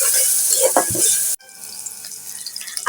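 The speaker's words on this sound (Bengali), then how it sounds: "আদা রসুনটা একটু ভেজে নেব" Ginger garlic paste fries in hot oil in a pot, a loud close hiss that cuts off sharply partway, then resumes as a softer, crackling sizzle with light stirring.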